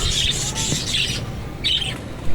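Chirps and squawks from parakeets and other caged birds in a pet shop, several bright calls in bursts, fairly near and overlapping, over low background hum.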